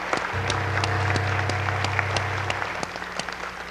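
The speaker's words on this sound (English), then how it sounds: "A nice round of applause for Laura Nessel and our foster grandparents." An audience applauds at a community awards show honoring foster grandparents, a dense steady round of clapping lasting several seconds under a constant low hum.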